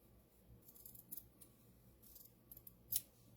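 Sharp scissors snip through the seam allowance of a tiny quilt piece: a handful of short, quiet cuts spaced irregularly, ending with one louder, crisper snip, with no talking.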